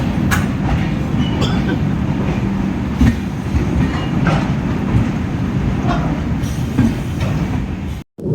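Garib Rath Express train running on the Chennai to Hazrat Nizamuddin route, a steady loud rumble of wheels on rails with rhythmic clickety-clack from inside the carriage, continuous throughout and briefly cutting out near the end.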